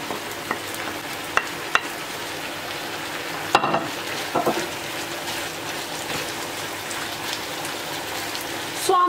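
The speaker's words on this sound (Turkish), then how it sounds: "Soğan ve biberlerle tavuğu soteleyeceğim." Onions and peppers sizzle continuously in hot oil, a dense crackling hiss with an occasional clink of a utensil stirring the pan.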